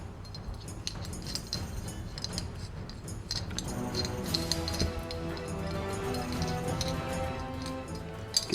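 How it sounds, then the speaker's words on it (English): Scrubbing at the side of an antique glass bottle produces a steady run of wet rubbing and small clinks of glass, continuous and close, with no talking. "you just rub it like so. Scrub at the side of the bottle."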